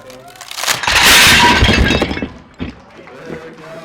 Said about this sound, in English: Oh, it's cracking.